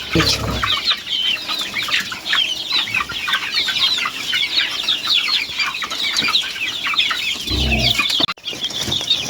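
Two-month-old chicks peck at grass, a dense chorus of soft clucks and peeps running throughout, close and steady, with a brief rustle near the end and no talk.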